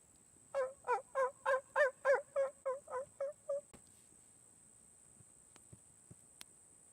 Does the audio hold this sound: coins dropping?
no